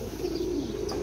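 Pigeon cooing comes from a flock of racing pigeons in a Pakistani flying competition, a soft low continuous burble held steady throughout, with a faint chirp near the end.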